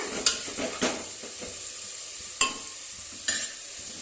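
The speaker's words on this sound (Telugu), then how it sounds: "ఆనియన్స్ అయితే వేసాను కదా ఆనియన్స్ అయితే వేగుతున్నాయి" Onions frying in oil in a pan for mutton curry give a continuous close sizzle, broken by three or four sharp clinks and scrapes of stirring, with no talking.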